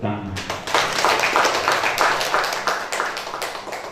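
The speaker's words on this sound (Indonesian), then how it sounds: "Mari kita mengungkapkan syukur dan kegembiraan kita dengan tepuk tangan." A Catholic wedding congregation claps for the newly married couple, sustained and fairly loud, after a short spoken voice at the start.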